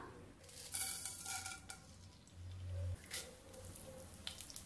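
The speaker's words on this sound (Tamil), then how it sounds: "எண்ணெய் சூடாயிடுச்சு இதில் நம்ம வச்சுருக்கதை தாளித்து விட்டுறலாம்" Spices sizzle in hot oil in a kadai as a South Indian tempering is started, a soft steady crackling hiss with a few faint clinks and a low hum in the background, heard close without any talking.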